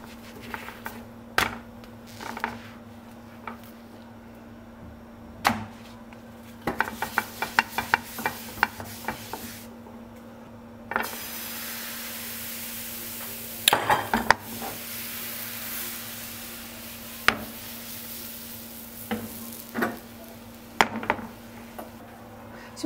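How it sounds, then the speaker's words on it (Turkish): Crepe batter cooks in a pan with a soft, steady sizzle under repeated clinks and taps of a utensil, and the sizzle swells louder partway through. "Tüm krep hamurun bitene kadar aynı şekilde pişirip bitireceğim"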